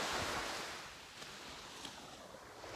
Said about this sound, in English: Enjoy the beach.